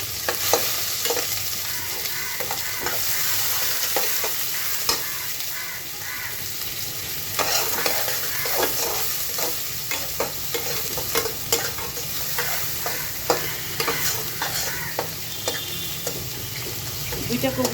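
Chopped onion frying in oil with two cardamom pods and two cinnamon sticks, a steady close sizzle with stirring scrapes and clinks throughout, no talking.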